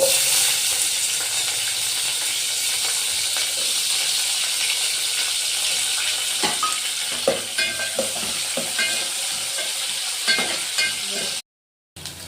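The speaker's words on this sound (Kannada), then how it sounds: "ನೋಡಿ ಈರುಳ್ಳಿ ಮತ್ತು ಕರಿಬೇವು ಚೆನ್ನಾಗಿ ಎಣ್ಣೆ ಫ್ರೈ ಆಗಿದೆ" Onion, curry leaves and cumin fry in oil with a loud, steady sizzle. A spoon scrapes and clicks against the pan more often in the second half, then the sound briefly cuts out near the end.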